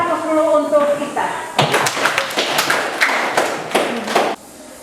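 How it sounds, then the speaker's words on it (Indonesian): A classroom of students applauds themselves during a lesson on regional wage differences: a burst of brisk, close clapping lasts about three seconds, then stops abruptly. A teacher's voice is heard speaking just before it. "Kita kasih aplaus dulu untuk kita."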